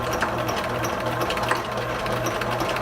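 Sewing machine stitching pieced T-shirt quilt blocks with a 1/4 inch seam, a steady close mechanical whir with rapid even needle clatter running throughout.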